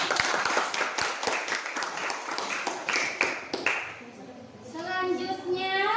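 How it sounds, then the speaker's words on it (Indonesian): Students in a classroom applaud a presenting group, a brisk burst of many hands clapping for about three seconds, then fading as children's voices and a woman's speech take over. "Sekali lagi tepuk tangan untuk kelompok."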